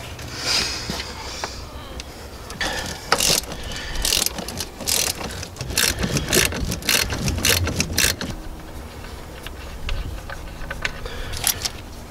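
A ratchet with an extension and short 14 mm socket clicks repeatedly while turning a nut during a transmission mount replacement on a 2005 Toyota Corolla CE, loud close bursts of rapid clicking in several runs, with no talking.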